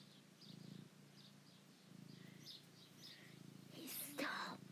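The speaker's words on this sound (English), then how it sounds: "He purrs all the time." A soft, low, continuous purr from a nearby cat, with faint higher chirps and a brief rustle near the end.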